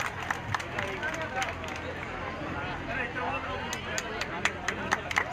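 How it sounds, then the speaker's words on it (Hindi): Crowd applause at a Hindi-language gathering honouring a student organisation officer, a dense wash of many hands clapping steadily, with sharper individual claps standing out over murmuring crowd noise. "जोरदार तालियां हो जाए इनके लिए।"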